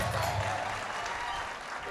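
Congregation at a church fire camp evening service clapping together, a dense, steady burst of applause that fades slightly toward the end, with a voice speaking underneath.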